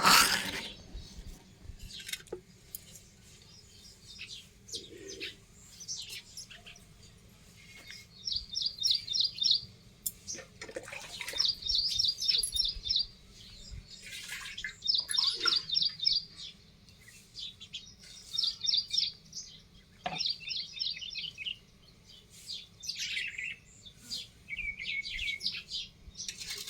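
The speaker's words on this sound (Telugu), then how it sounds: "పిట్టలు అయితే మమ్మల్ని లేపుతాయి, కిచకిచా కిచకిచా సౌండ్ చేసుకుంటాం." Birds chirp and trill around a quiet village farm in the early morning, with repeated bright, rapid bursts of song at moderate distance over a calm background.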